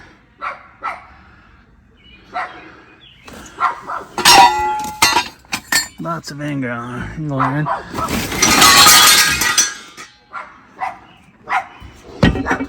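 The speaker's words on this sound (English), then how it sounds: "Stop barking" Dogs, a mother and her pups, bark in short bursts around a cluttered workshop, mixed with clanks and someone talking over them.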